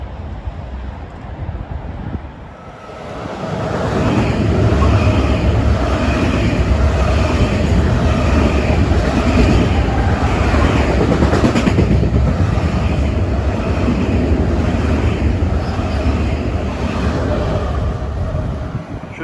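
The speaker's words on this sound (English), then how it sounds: "Approaching at 1:23 is train 853 from Long Beach to Penn Station, New York." Long Island Rail Road train 853, from Long Beach to Penn Station, passes Rosedale station in Queens without stopping, a loud close roar of wheels and cars that swells after a brief quiet and holds steady.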